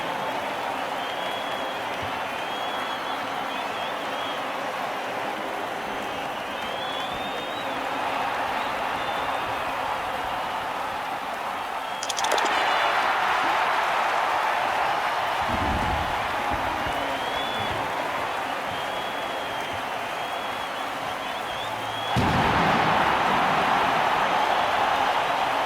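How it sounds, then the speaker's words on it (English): A stadium crowd in the video game Blood Bowl sings its team anthem, a continuous roaring mass of voices with faint chant-like tones that swells abruptly louder twice. "The crowd enjoy the show as they sing the team anthem."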